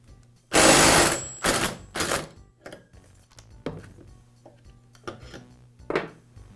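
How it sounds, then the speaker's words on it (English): Impact wrench spinning a clutch removal tool to unscrew the clutch of a Poulan chainsaw, one loud sustained burst followed by two shorter bursts, then quieter clanks and taps of tools being handled nearby. "use my impact to remove it in a clockwise rotation"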